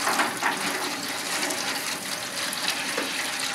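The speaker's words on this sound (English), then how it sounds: "We can put water inside that pan." Water poured into a pan set beneath a brisket in a Masterbuilt Gravity Series smoker, a continuous splashing, gushing pour heard close and alone for a few seconds.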